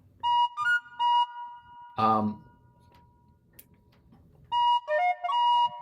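A tin whistle plays short clear notes in a few separate bursts, close and fairly loud, with a brief spoken interjection between the phrases.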